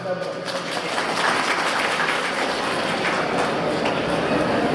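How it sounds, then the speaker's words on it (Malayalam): Steady, dense applause from an audience at an outdoor family gathering in a field, continuous and fairly loud for the whole stretch, with a faint murmur of voices underneath. "ഇടയ്ക്കിടയ്ക്ക് കയ്യടി ഉണ്ടെങ്കിൽ"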